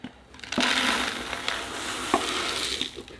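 Bonsai soil being scooped and poured while potting pine seedlings, a gritty rushing pour with a few sharp scoop clicks, fairly close and steady without talk.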